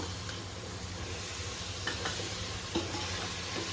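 Masala spices fry steadily in a pan for a South Indian chicken curry. A continuous sizzle holds close and even throughout, with a few faint clicks of stirring.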